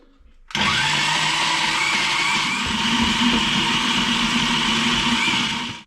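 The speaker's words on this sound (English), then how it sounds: "I'm going to get the blender on the base, lid on, and now the noisy bit" A blender motor switches on abruptly and runs loud and steady, blending döner kebab meat, a continuous whirring roar that holds until it cuts off at the very end.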